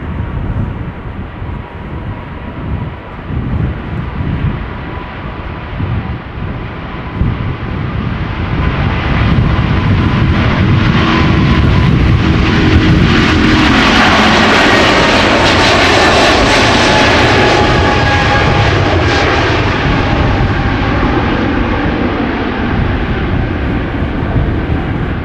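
A 27-year-old United Airlines Boeing 777-200ER jet takes off at Schiphol Airport, its engine roar building from a steady rumble into a loud, sustained broadband thunder that peaks and holds as the aircraft passes close by.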